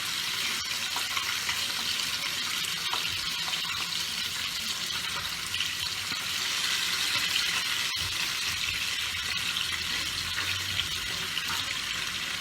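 Pabda fish fries in hot oil with a steady, dense sizzle that stays even and close throughout, with no voices.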